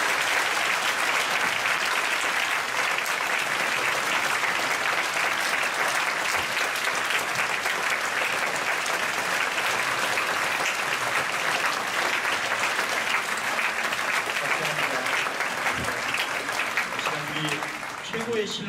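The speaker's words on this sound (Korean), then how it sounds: "우리 다음 세대를 두고 우리 큰 박수로 한번 격려했으면 좋겠습니다." A church congregation gives sustained, loud applause at a Friday night overnight worship service, a dense even wash of clapping that fills the space for the whole stretch, with a few voices mixed in beneath it.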